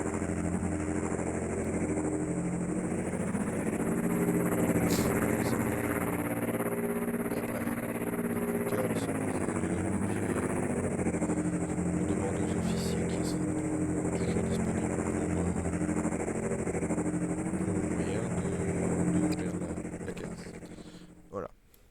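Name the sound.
gunship taking off in Garry's Mod video game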